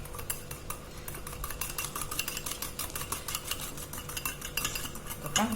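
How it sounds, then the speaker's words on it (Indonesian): An egg, sugar and water mixture whisked in a bowl over steam, with a steady, busy run of quick metallic clicks and scrapes from the whisk against the bowl, close and fairly even throughout. "Kita kocok."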